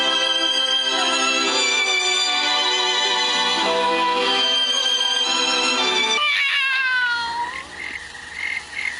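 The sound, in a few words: cat meowing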